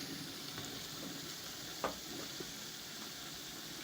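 Chickpeas fry with khoya in a pan, giving a steady, low-level sizzle with faint stirring scrapes and an occasional soft clink, continuous and without speech.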